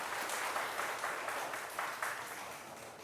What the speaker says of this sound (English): Y'all give that man a round of applause.